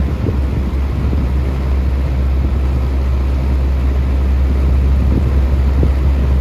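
A Lakewood model 225 box fan runs with a loud, steady low whir and a helicopter-like throb, a constant drone that holds evenly throughout with no talk.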